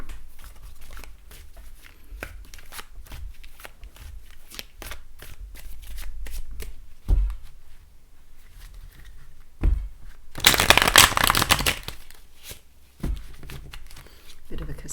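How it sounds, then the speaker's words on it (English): Connolly Tarot cards get a casino-style shuffle, a loud continuous riffling burst of about a second and a half standing out between stretches of close, quiet talking and soft card handling. "Bit of a casino shuffle."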